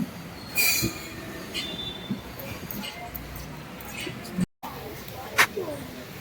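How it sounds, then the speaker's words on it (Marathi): A train arriving at Ratnagiri railway station rolls along rails with high metallic wheel squeals and clicks, heard at moderate distance over a steady rumble, with bursts of voices nearby. "आता आम्ही पोचलो आहेत रत्नागिरी रेल्वे स्टेशनला"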